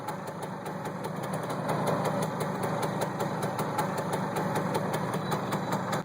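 A 1963 Suzuki K10 80cc two-stroke motorcycle engine runs steadily at idle, a close, even mechanical drone with a fast ticking pulse throughout and no voices.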